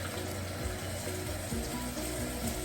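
About four cups of water pour into a large measuring cup in a kitchen, a soft, continuous trickling and splashing at low volume.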